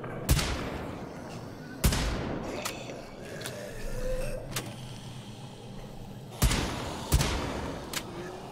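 Several sharp gunshots in the game Wolfenstein: The Old Blood crack out, spaced irregularly with pauses between them, over a quiet, faint background.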